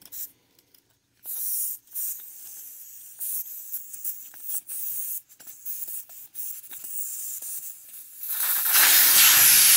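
Air hisses from a lawn mower tire valve after the core is unscrewed, a faint broken spitting hiss with gaps at first, then a strong steady rush of escaping air at the end, close and without talk.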